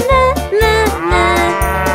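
A sung melody with rhythmic accompaniment, the voice imitating a cow's moo in a French children's song about a bus, repeated in a steady bouncing beat.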